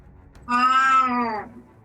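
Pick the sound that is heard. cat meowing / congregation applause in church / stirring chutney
cat meowing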